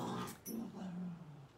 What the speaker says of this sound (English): I'm dog sitting and they're playing, so if you can hear the puppies, that's what you're hearing